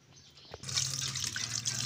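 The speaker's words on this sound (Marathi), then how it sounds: "पाणी टाकायचं, कढईत उकडत घालायचे." After a brief click, water starts pouring in a steady, splashing stream into a kadhai, continuing evenly until the end.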